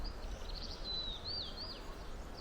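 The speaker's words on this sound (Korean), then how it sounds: "새소리 들립니까?" A single bird sings a few thin, high warbling phrases in a forest, faint and somewhat distant, over a soft steady outdoor background.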